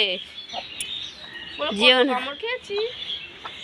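Chickens and a rooster calling in a yard, a string of short clucks and chirps with a louder call in the middle, mixed with a nearby human voice.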